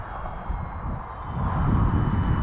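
Atomrc White Dolphin RC plane flying on a 6-inch propeller, giving a steady droning buzz that builds louder as it passes closer, with no voices.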